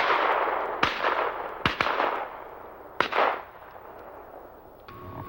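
Shotgun shots during a Great Lakes waterfowl hunt: three sharp, loud blasts about a second apart, each trailing off in a long outdoor echo across open water.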